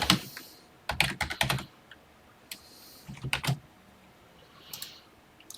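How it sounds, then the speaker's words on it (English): Bursts of rapid typing on a computer keyboard while entering TI Basic code in an emulator for the TI-99/4A home computer, close clattering keystrokes in short runs separated by pauses. "let's start typing"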